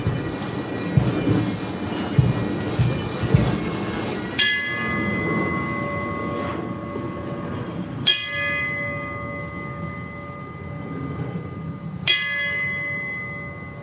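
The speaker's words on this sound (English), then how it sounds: "Captain Jose Fuentes, will ring the bell three times." A ceremonial fire department bell rings three times at a Miami Fire-Rescue change of command ceremony, each loud clear strike spaced about four seconds apart and left to ring out in a hushed hall after murmuring noise.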